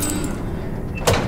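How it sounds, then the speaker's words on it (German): A heavy metal hatch swings open in the World War II shooter Call of Duty: Vanguard, one brief mechanical clunk and scrape rising out of a steady, loud rumble of in-game ambience. "Machen wir die Luke auf."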